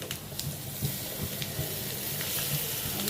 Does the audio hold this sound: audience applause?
no